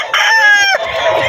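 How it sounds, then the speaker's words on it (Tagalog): A rooster crows loudly and close by, one sustained call, followed by the clucking of chickens nearby. "mga manok ni Mostro doon"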